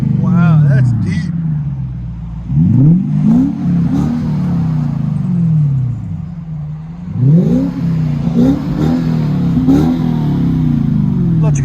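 A car engine revs repeatedly with a deep, throaty exhaust through large exhaust tips, rising and falling in several bursts, loud and close, with speech over it.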